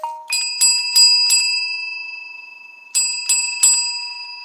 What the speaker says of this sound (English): my ring if you need service bell